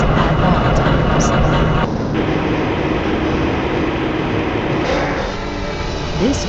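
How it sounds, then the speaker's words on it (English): Black Mesa transit train from Half-Life Blue Shift rolling along its track with a steady loud rumble and rattle that eases slightly partway through, while an announcer's voice talks over it. "This train is inbound from the Area 8 topside dormitories to the Central Transit Hub in Area 9."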